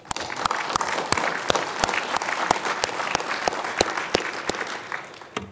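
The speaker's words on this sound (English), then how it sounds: "Please join me in giving them a round of applause." Audience at the International Forum on One Korea 2017 clapping for a Korean delegation, a sustained round of applause with sharp individual claps standing out, continuing steadily before tapering near the end.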